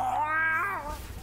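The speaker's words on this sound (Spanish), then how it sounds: "Ah, mira, el gatito." A single cat meow, close and clear, rising then falling in a drawn-out wail over about a second.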